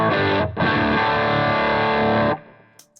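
Distorted Harley Benton Fusion T electric guitar through a Walrus Audio effects pedal, a thick sustained chord with a short break, then ringing out and cutting off.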